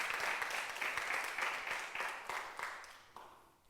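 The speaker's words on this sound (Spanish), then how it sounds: "Dale un aplauso al Señor." A church congregation applauds during a Spanish-language Sunday service, scattered clapping sustained for a few seconds before thinning out toward the end, moderately distant and fairly faint.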